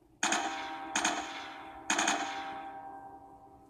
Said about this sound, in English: Shoot the bell.